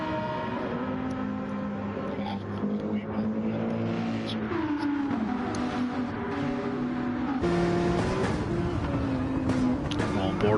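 Porsche and Audi race cars in a racing video game at Monza, engines droning and rising and falling in pitch as they pass, loud and steady throughout with a voice talking over them.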